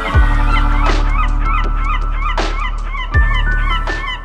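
Birds fly close behind the open rear deck of a cruise ship bound for Saint Martin, giving quick, repeated chirping calls over the low, constant drone of the ship's engine, with a couple of louder honk-like bursts.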